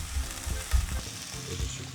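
Japchae vegetables stir-fried with a splash of water in a pan, giving a steady close sizzle with soft scraping stirs and light thumps throughout.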